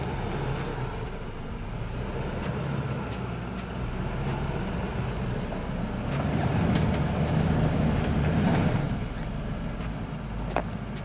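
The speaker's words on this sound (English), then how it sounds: "the Lexus will drive with all off-road assistance activated" Lexus LX 570 SUV crawling off-road in low range with the center differential locked, air suspension raised and rock-and-dirt mode, a steady low engine and drivetrain rumble swelling louder partway through, no talk.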